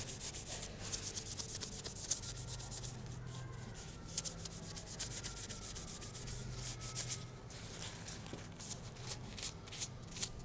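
A rag rubs oil into a handmade knife's handle, giving close, quiet, repeated scrubbing strokes in an uneven back-and-forth rhythm with small knocks.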